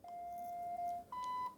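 Two short electronic beep tones from a Samsung Galaxy A33 5G phone speaker, the first longer and the second slightly higher, loud and clear against a quiet room.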